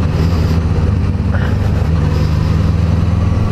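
A Suzuki GSX-S1000 with a 1000 cc inline four-cylinder engine idles nearby in an even, loud, low thrum that holds steady throughout without voices.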